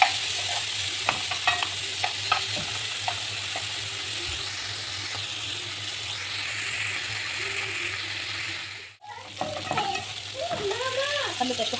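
Tomatoes sauté in a pan with a steady, moderate sizzle and occasional stirring scrapes, continuous apart from a brief dip near the end.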